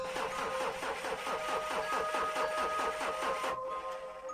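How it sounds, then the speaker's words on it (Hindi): A motorbike engine runs with a rough, uneven sputter and a steady pulsing rhythm, then cuts out abruptly near the end, stalling on a road at night. "मेरी बाइक ने अजीब आवाज करना शुरू कर दिया। इंजन कांपने लगा"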